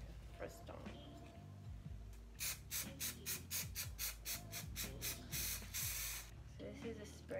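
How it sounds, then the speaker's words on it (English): Repeated short bursts of spray adhesive hissing from an aerosol can, about a dozen quick pulses in a row, close to the microphone over background music. "This is a spray adhesive."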